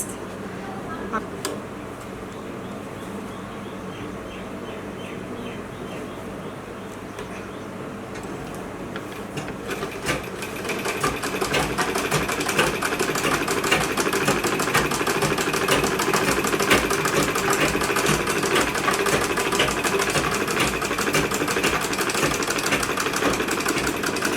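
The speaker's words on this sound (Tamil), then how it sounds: "நான் 6 ஃபோல்டாக இதை பண்ணிவிட்டு இப்போ நம்ம தைச்சிருக்கோம்" Tailoring sewing machine stitching through six folds of thick fabric: a quieter rattle at first, then a loud, fast, continuous mechanical clatter for the last half, with a voice heard at times.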